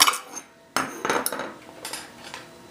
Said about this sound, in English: Put the dog dishes up here.